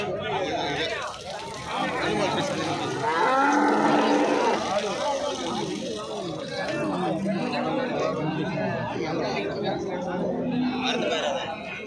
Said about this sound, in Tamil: சுத்த சுத்த எவ்வளோ மாடுங்க இருக்கு பாருங்க